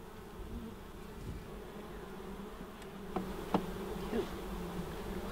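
A steady, low buzz comes from a swarm of wild honey bees around a hive built inside a house wall, with a few faint clicks and taps rising above the drone.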